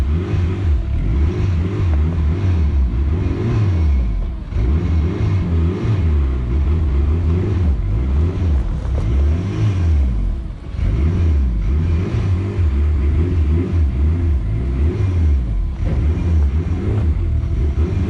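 A 1998 Dodge Neon ACR with a cable-operated twin-disc clutch drives on a test run, its engine droning loud and steady with repeated rises and falls in revs, and no talking over it.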